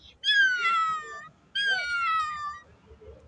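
A person imitates a cat's meow during a school talent show mimicry performance, giving two drawn-out, clear, close meows with a falling pitch, separated by a short pause.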